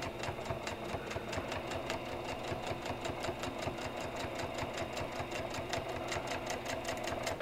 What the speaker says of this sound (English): now all we have to do is sew down the edge, then sew down the top, the other edge,